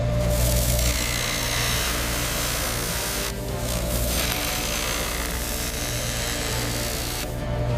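Diamond being bruted against another diamond to round its girdle, a continuous harsh grinding rasp with brief dips, steady and close throughout with no talk.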